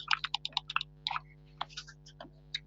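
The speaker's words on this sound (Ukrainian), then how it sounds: "Не клацай клавіатурою так сильно, бо тебе чути." A computer keyboard is struck hard and fast during a Roblox magic duel game, a cluster of sharp close key clicks in quick bursts over a low steady hum, with no talking.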